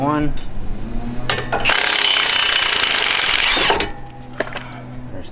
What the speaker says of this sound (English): I'm going to go ahead and remove both 18mm caliper bracket bolts.